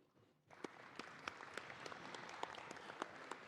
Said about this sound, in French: je voudrais que tous les membres ici présents, membres du conseil d'administration et membres de l'UPU, s'applaudissent pour le travail excellent qui a été donc accompli.